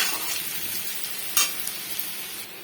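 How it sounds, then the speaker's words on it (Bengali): Bay leaves, cashews and raisins stir-fried in hot oil in a pan for Gobindobhog rice fried rice, a close, steady sizzle with a sharp scrape of the spatula midway and soft stirring. "তেজপাতা, কাজু, কিশমিশ সব দিয়ে দিলাম। দিয়ে একসাথে তাকে নেড়ে চেড়ে নিতে হবে।"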